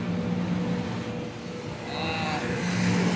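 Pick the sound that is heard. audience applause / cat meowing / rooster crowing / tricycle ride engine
tricycle ride engine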